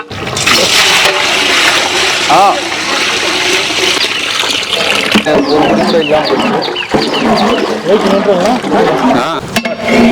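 Water pours and splashes into a large pot of 10 kg chicken dum biryani, a continuous rushing gush while people talk over it.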